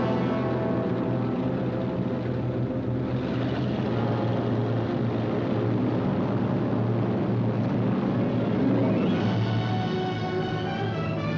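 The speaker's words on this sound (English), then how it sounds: "the British found strength not only to defend, but to counterattack with what few bombers they could get together" Droning engines of a British bomber aircraft in flight during the Battle of Britain, a loud, steady, rumbling hum throughout from an old 1943 film soundtrack, with no speech.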